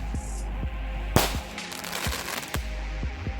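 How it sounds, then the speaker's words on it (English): Mini-X 1-inch fused firework shells bursting outdoors, a quick run of sharp cracking bangs with one loud blast and crackling tails, fairly near. "Mini X shells."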